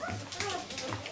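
A puppy not yet four weeks old whimpers and yips in short, high, wavering cries, close and clear, mixed with a person's voice nearby.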